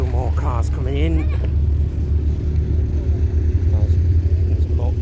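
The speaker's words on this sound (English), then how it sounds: "Still more cars coming in." Cars arrive at a Ford versus Vauxhall car meet at The Motorist, a steady low engine rumble and idling under people talking nearby.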